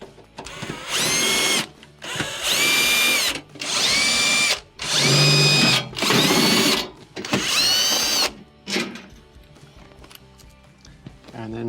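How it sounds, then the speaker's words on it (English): Power drill whirring in six or seven sustained bursts while backing out the screws on a GE refrigerator's rear cover during a condenser fan motor repair, loud and close with brief pauses between. "To remove the cover, remove all the screws that hold it in place."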